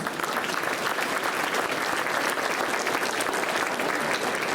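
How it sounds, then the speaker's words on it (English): A school band concert audience bursts into full, continuous applause, a dense, loud crackle of many hands lasting several seconds with no talking over it. "Let's give them a round of applause."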